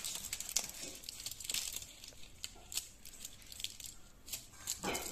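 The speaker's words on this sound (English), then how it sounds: "Now we fold the foil in half." Aluminium foil is folded in half by hand, with close, faint crinkling and crumpling in short bursts and a louder crackle near the end, with no talk.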